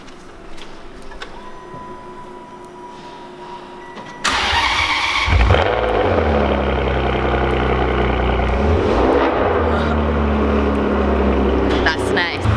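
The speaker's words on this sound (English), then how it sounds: "we're gonna do a cold start" An exotic car is cold-started inside a garage: a sharp starter crank and loud engine catch, then a high, rumbling idle with a couple of revs that ease back down, close and dominant after a quieter opening.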